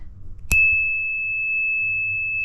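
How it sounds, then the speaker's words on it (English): One bright ding from a small bicycle bell struck once, close and clear, ringing out as a steady high tone that sustains with little decay for about two seconds. "this is my little dinger bell that I think is kind of cool to be able to, here I'll see if I can ding it."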